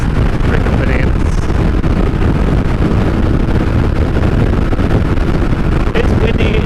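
Loud, continuous strong wind buffets the microphone near idle wind turbines with a heavy rumbling roar that stays constant throughout.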